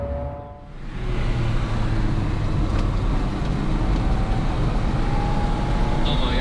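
A Lada car being driven on the Nürburgring, its engine and road roar heard as a steady, loud, continuous drone from inside the car with no voices.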